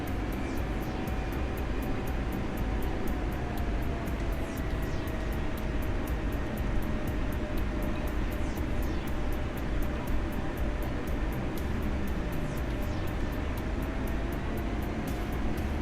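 Steady aircraft engine drone from a plane taxiing on the ground in a flight combat video game, a continuous even hum with a faint higher whine that holds throughout, no talk over it.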